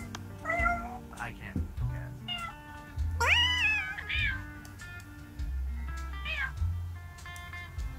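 A man in a VRChat voice chat imitates a cat with his mouth, giving several convincing rising meows and a drawn-out caterwaul, close and clear, with other voices talking between them.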